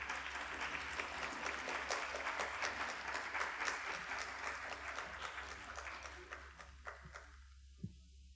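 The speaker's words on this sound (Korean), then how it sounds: "목사님 나오실 때 우리 박수로 환영하겠습니다" A Korean church congregation at a Sunday young adults' worship service applauds as the pastor comes forward, dense sustained clapping from a large crowd that gradually thins and fades toward a few last claps near the end.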